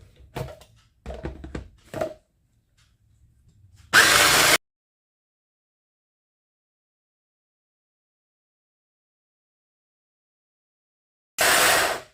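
A food processor mincing hake fish runs in two short, loud whirring pulses separated by a long silence, preceded by a few quieter clattering knocks.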